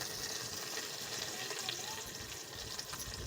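Onions and curry leaves frying in a pan for a village-style crab curry, giving a steady, even sizzle and crackle throughout at moderate loudness, with no talking.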